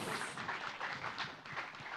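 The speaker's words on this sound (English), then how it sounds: "Can we have another round of applause, everyone?" An audience applauds at a nature event, a dense, steady wash of clapping from many hands lasting the whole moment, fairly loud and even with no voices over it.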